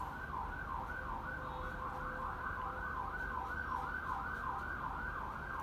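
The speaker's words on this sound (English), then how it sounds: "I think that's the ambulance or the police car," A distant ambulance or police siren wails outside in a fast repeating up-and-down yelp, steady and moderately faint over low traffic rumble, with no talking.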